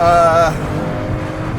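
A Porsche 911 GT3 RS engine is driven flat out on a race track, giving a loud, high-pitched, harmonic wail that drops away after about half a second into a rougher steady roar. The sound is continuous and close.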